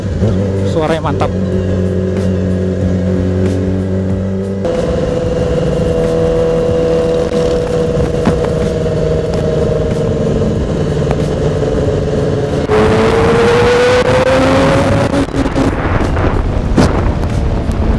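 Yamaha R6 motorcycle engine riding through busy Jakarta traffic, a loud continuous drone with a pitch that wavers and then rises as the engine revs up near the end, while someone talks over it.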